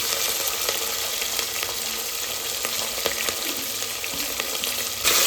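Green chillies and onions sizzle and fry in a pan for chicken biryani, a steady, close hiss of hot oil with occasional crackles and stirring scrapes throughout.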